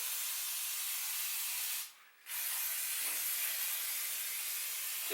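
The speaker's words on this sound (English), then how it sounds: "right now I'm using WD-40 just to, oil up the threads" WD-40 aerosol spraying steadily onto the threads of a Honda S2000 coilover, a continuous close hiss that cuts off briefly for a moment, then resumes and runs on to the end.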